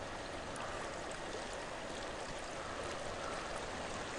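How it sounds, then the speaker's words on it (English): A flowing stream in the video game Hellblade: Senua's Sacrifice, a steady rushing, gurgling wash of water that holds an even level throughout with no voices over it. "I'm sure you guys can hear the water at least."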